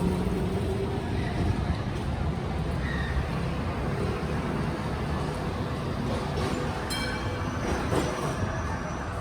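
An old W-class tram rolls past on a Melbourne street, a steady broad rumble of wheels on rail with faint squeals and clicks throughout.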